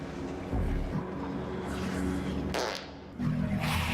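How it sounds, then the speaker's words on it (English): Fart in a supernatural TV show scene, a low rumbling blat heard over a noisy background, with a second burst near the end. "If I die because you farted, I am taking you with me."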